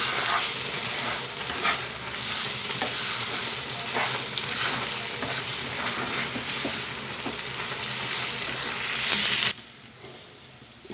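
Ivy gourd and egg fry sizzling steadily in a pan while a spatula stirs it through, a loud continuous hiss with soft scraping, dropping suddenly near the end.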